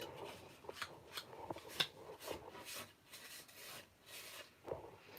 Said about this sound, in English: just give it a good rub and get the excess off